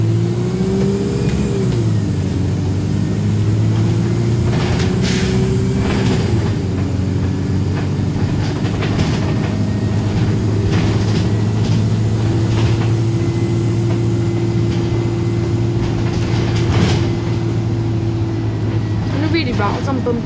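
An Arriva North East Wright StreetLite bus engine drones steadily from on board, a loud continuous hum with shifting tones as it pulls along, with occasional rattles over the road.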